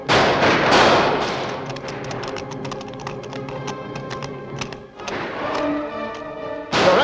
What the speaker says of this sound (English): Someone is shooting up ahead.